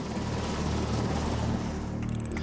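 Steady, loud rotor and engine drone of a helicopter flying over an animal park, a continuous close throbbing roar with no talking.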